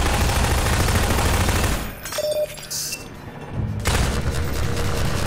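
Loud gunfire in the first-person shooter Half-Life 2, dense bursts of rapid shots that drop out for about two seconds and then resume just as loud.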